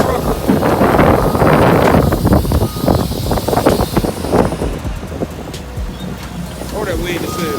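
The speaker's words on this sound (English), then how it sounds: "Oh, that wind" Strong wind buffeting a microphone outdoors beside a flatbed truck, a loud low rumble for the first few seconds that eases off somewhat toward the end, with no clear talk over it.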